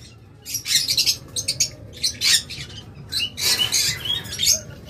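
A violet mask and blue mask lovebird pair gives repeated sharp chirps and squawks in quick bursts, close and fairly loud over a steady low background hum.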